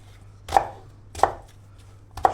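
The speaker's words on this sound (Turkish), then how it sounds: "el mikseri var. Onunla bir ince ince doğrayacağım." Three sharp chopping thuds of a hand chopper cutting bonito fish on a board, spaced evenly about two-thirds of a second apart, close and distinct.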